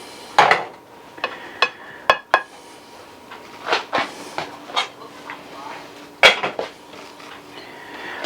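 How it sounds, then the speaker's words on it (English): Jasmine rice being served onto a plate, a series of light scrapes and clinks of a utensil against dishware, several sharp taps spread across the stretch in a quiet kitchen. "So let's put some rice on the plate."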